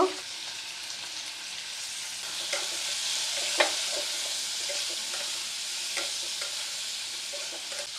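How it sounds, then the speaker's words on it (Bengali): Tomato, salt and turmeric being stirred in a frying pan over medium-high flame for a Bengali echor cholar dal, a steady sizzle with soft scraping strokes and a few sharper clicks of the spatula against the pan. "দু 3 মিনিট এরকম মিডিয়াম টু হাই ফ্লেমে নেড়ে যাব।"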